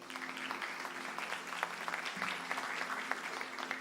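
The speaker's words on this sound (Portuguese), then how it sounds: "Dê uma salva de palmas aí para os pais." A church congregation claps for fathers on Father's Day during a live service in Fortaleza: a fairly quiet, continuous patter of many hands with a faint steady tone held underneath.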